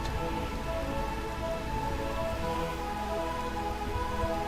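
In Final Fantasy IX, steady rain falls over Burmecia as a dense, even hiss of drops that runs without pause and carries faint tonal music underneath.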